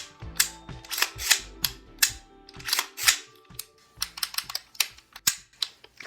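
Sharp mechanical clicks and snaps from an AR pistol during a functions check: the action cycling and the trigger dropping the hammer, a dozen or so close, crisp metallic clacks at an uneven pace, with no talking.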